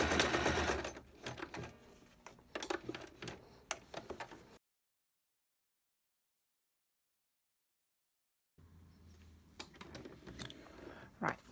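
Bursts of a sewing machine stitching down the seam of a cloth mask with a filter pocket, quick close needle clatter for several seconds, then a long silent gap before stitching resumes.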